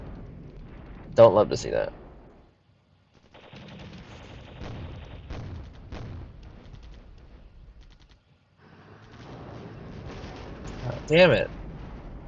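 In a military strategy game, an enemy artillery vehicle runs into a minefield, setting off sharp explosive blasts near the start and the end, with mechanical rumbling and someone talking in between.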